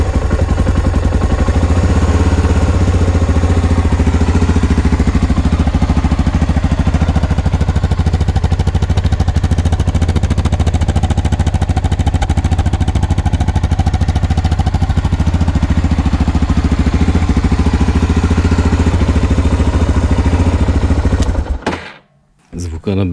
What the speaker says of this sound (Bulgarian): Първо звука на Сузукито. Той е с мукач.